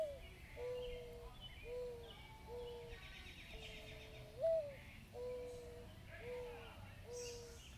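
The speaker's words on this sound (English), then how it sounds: "It's the sound of a mourning dove." A mourning dove's soft, mellow cooing plays back from a backyard bird song book, a repeated series of low, drawn-out hooting notes with a slight upward swoop, fairly faint and clear against a quiet background.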